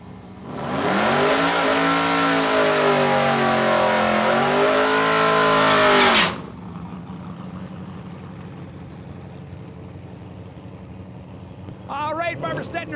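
Race car at full throttle on a drag strip at Saskatchewan International Raceway, a loud sustained roar climbing through gear changes for about six seconds, then cutting off to quieter ambience with a voice talking near the end.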